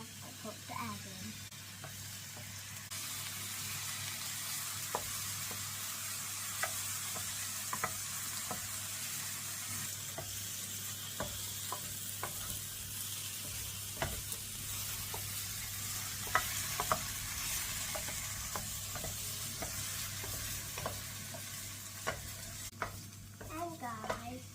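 Mushrooms frying in a pan for an omelette, a continuous soft sizzle with scattered light scrapes and taps of a utensil stirring, and no talking.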